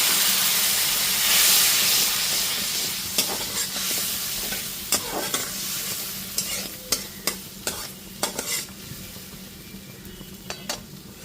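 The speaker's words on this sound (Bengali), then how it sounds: "সামান্য একটুখানি জল দিয়ে মশলাটাকে একটুখানি কষিয়ে নেব।" Turmeric and Kashmiri chilli spice paste stir-fried with a splash of water for pomfret curry, giving a steady close sizzle and hiss with repeated sharp scrapes and clacks of a spatula against the pan.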